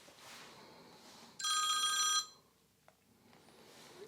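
A mobile phone rings outdoors in a single loud electronic ringtone burst lasting under a second, then cuts off, leaving quiet ambient background with faint distant sounds.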